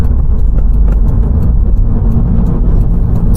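A 2018 Subaru WRX engine with a COBB intake runs steadily and loud up close, with a sustained mechanical whir rising over the rumble as the turbo spools.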